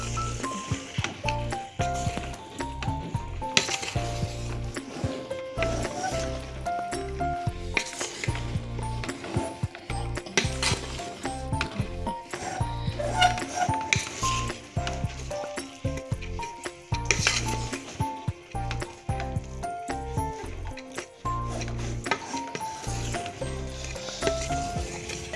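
A spoon stirs tomato rice in a pot, clinking and scraping steadily and repeatedly against the metal with a soft sizzle underneath, and music plays throughout.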